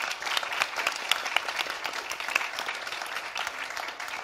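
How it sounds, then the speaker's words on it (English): An audience at a panel event on digital finance gives the speakers a warm round of applause, a continuous, even crackle of many hands clapping that stays steady and moderately loud. "Let's now thank all of our speakers and give them a very warm round of applause."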